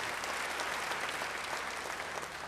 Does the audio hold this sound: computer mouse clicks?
no